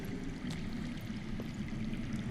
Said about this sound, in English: I hear water. From underground.